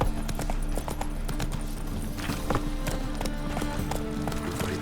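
The horse Roach galloping in The Witcher 3, fast rhythmic hoofbeats drumming close and loud over a steady background bed, continuous throughout.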